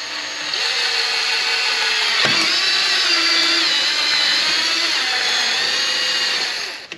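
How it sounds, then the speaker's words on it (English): A power drill bores through a carbon fiber wing being fitted to a C7 Corvette, running as a steady, loud, high-pitched whine for about seven seconds with a brief dip in speed partway through. "we're gonna go ahead and we're gonna drill this little guy. And drill it right at the corner."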